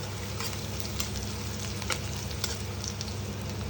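Onions fry in a pan with a steady, dense sizzle and crackle, close and continuous with no talking.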